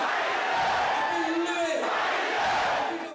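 Angry crowd clashing with police outside a compound, a roaring mass of shouting voices with rising yells and whoops, dense and continuous at close range, with no single speaker standing out.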